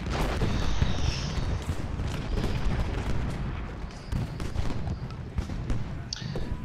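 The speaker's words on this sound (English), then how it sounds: "Got all these cannons back here." Cannon artillery in a Civil War strategy video game booms repeatedly over a dense, noisy battle background, with scattered sharp reports and distant rumbling throughout.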